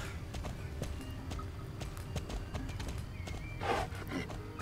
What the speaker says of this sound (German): der gute Ever Madness, dass er auch mal wieder raus kann, hier so ein bisschen rumridern.